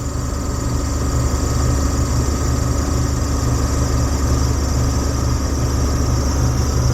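A vintage RV engine held at about 2,800 RPM during a winter start-up drones loudly and steadily, a constant close-up rumble with no pauses and no talking.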